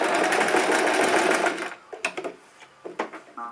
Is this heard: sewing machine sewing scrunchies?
yes